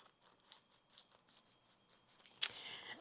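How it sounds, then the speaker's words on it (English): Scissors cut through the thin plastic of sandwich bags in a quiet room, giving faint snips and crinkles that end in one sharper, louder cut. "We're going to cut the top off of them."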